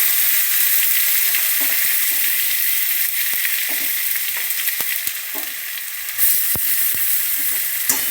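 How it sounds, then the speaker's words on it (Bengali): Onion and green chili paste frying in hot oil, giving a loud, steady, close sizzle with a few faint clicks and knocks from the pan. No voices. "একটু ভেজে নেব"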